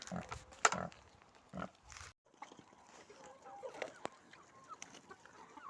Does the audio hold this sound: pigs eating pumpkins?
yes